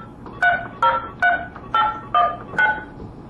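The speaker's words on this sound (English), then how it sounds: "I will use the regular home phone or landline phone to control the unit. So I dial the telephone number inside the 601." A regular landline home phone dials a number to remotely control a HI-601VT vehicle relay unit, giving six distinct DTMF tone beeps in an uneven rhythm, clear and close with no talking.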